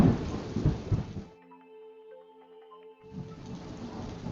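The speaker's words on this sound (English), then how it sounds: "A storm rumbles on Lake Michigan's horizon." Steady rain hiss with a low rumble of distant thunder from a storm over Lake Michigan, briefly dropping away in the middle before the downpour sound returns.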